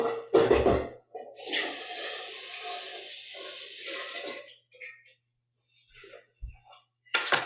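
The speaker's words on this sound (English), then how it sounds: "I'm going to rinse this out" Tap water runs hard into a bowl being rinsed, a bright steady splashing stream for several seconds that cuts off, followed by a few small clatters and drips before water briefly rushes again.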